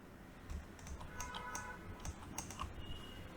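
Computer mouse clicks during Photoshop work, a few sharp, quiet clicks spaced irregularly over a faint room background with no talk.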